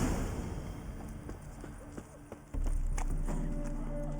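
Roach the horse trots in The Witcher 3, her hooves clip-clopping in a steady rhythm that becomes denser and louder partway through, with no speech over it.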